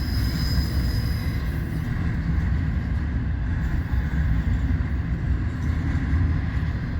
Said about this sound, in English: eastbound stack train, there ain't much to this. A lot of power for a very short train.